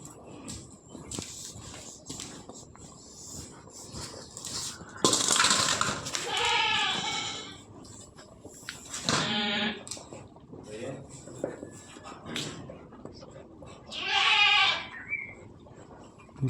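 A nanny goat on a small farm bleats loudly three times, in drawn-out wavering calls spread across the stretch, with someone talking over and between the bleats.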